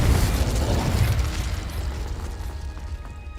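A Confringo explosion spell goes off in the video game Hogwarts Legacy, giving a loud, rumbling burst with crackling debris that gradually decays over a few seconds.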